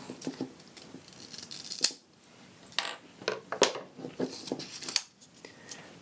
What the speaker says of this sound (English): Okay, take your scissors